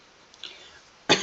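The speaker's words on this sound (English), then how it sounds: "Why won't this cough go away?" A single sharp cough bursts out near the end after a quiet stretch with faint background tone.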